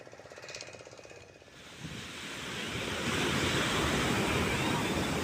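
Sea surf behind the Ramchandi temple on the coast, a steady broad wash of breaking waves. It starts quieter and swells louder after about two seconds, with some wind buffeting the microphone and no voices.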